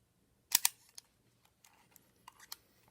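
Leica IIIf red dial rangefinder camera firing its shutter at a slow 1/10th second: a sharp double mechanical clack close by, followed by softer clicks and small handling noises from the camera in quiet surroundings.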